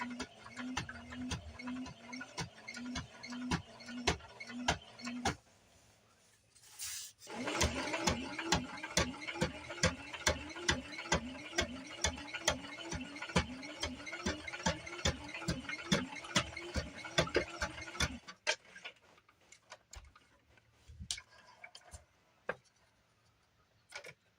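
A sewing machine stitches the seam of a small potholder in a fast, steady mechanical rattle of needle strokes, first a short burst, a brief pause, then a longer continuous run that stops abruptly, leaving quiet handling noises.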